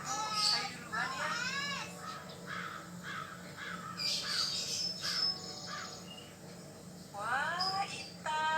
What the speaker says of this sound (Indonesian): Ita, lihat burung itu.